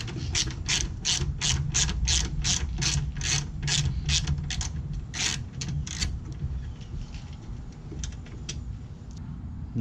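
Ratchet wrench clicking on the upper headlight assembly bolts of a Toyota Camry under accident repair, rapid rhythmic bursts of sharp clicks that slow and fade toward the end, close and clear.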